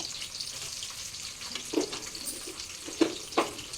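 Chopped medium onions hit hot oil with toasted cumin seeds in a pan, giving a continuous close sizzle with a few sharper crackles and stirring scrapes, no voices over it.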